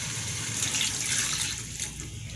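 A cup of water poured into a pot of chicken korma with onion and almond paste, a steady splashing pour lasting a couple of seconds, close and moderately loud with no speech.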